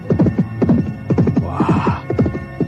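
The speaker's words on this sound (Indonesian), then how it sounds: "Pupulut segera meninggalkan lembah Balongan dengan mengendarai kuda hitam." A black horse gallops with rapid, rhythmic hoofbeats throughout, close and loud, with a brief whinny in the middle.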